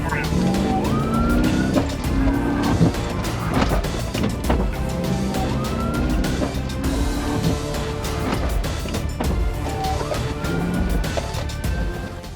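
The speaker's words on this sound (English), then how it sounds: "A pit maneuver spun the SUV sideways, ending the chase." Police chase with wailing siren sweeps repeating over car engine and road noise as an SUV is spun sideways by a pit maneuver; the siren rises and falls loudly throughout, with a voice briefly present.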